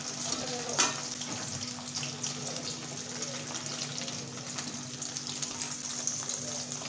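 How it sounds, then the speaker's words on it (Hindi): Potato fries frying gently in a kadhai over a low flame give off a steady soft bubbling sizzle with a few light clinks, close and unbroken, with no talking. "मंदी एकदम कम गैस के ऊपर इनको फ्राई करते हैं।"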